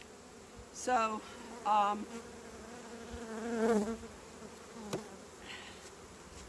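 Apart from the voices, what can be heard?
honey bees buzzing during beehive inspection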